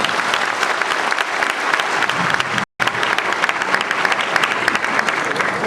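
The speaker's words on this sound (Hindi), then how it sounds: "जोरदार तालियों से स्वागत किया" Sustained, dense applause from a large crowd at a community gathering in Bihar, loud and continuous, briefly cut off for an instant midway before resuming.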